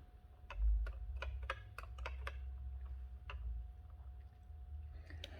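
Number keys pressed on an Olivetti Logos 49 electronic calculator make a string of about a dozen sharp, close plastic clicks. They come in an uneven rhythm, some quick pairs and some spaced taps, over a low steady hum.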